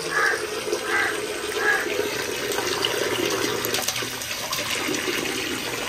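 Tap water runs steadily while raw chicken is washed, a close continuous splashing stream with a few brief spurts near the start, and no talking.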